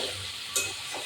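Bitter gourd and potato fry in a pan with a soft, steady sizzle, broken by one brief scrape of stirring partway through.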